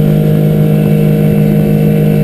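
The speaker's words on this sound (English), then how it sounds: "That miss you heard was the rev limiter on the motor." A 2003 Alumaweld 15-foot Stryker boat's outboard motor runs at full throttle under full load, a loud, steady drone with a faint stutter as it bounces off the rev limiter.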